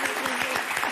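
Brief burst of studio audience applause on a French TV game show, dense steady clapping with a voice speaking over it.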